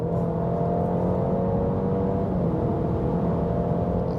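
A 2023 Alfa Romeo Giulia accelerates hard, heard from inside the cabin as a loud, steady engine roar with road and wind noise.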